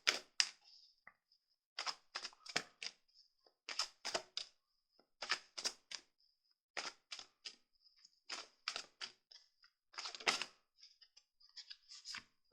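Crisp riffling bursts of a deck of chakra oracle cards being shuffled, repeated in quick clusters with short pauses between, close and clear against a quiet background.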